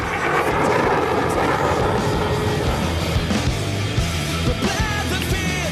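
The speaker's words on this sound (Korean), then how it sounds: "이번엔 각기 다른 방향에서 2대의 비행기가 날아와 부딪힐 듯 교차합니다." Several aerobatic airplanes at an air show roar past, two approaching from opposite directions and crossing; a loud, continuous engine drone with shifting pitch fills the whole stretch, with faint crowd sounds underneath.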